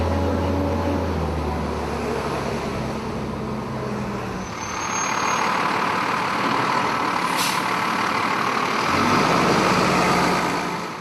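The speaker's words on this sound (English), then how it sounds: "The crew of Engine 27 head out of town and back to West Hampton." Fire engine Engine 27 pulling away from a Jersey Shore boardwalk fire scene, a steady heavy diesel rumble that swells as it moves off, with a brief hiss midway and continuous outdoor background noise.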